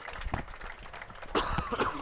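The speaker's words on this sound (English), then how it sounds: "This cough won't leave me alone." A person clears their throat and coughs up close, a short rough burst following quieter shuffling noise.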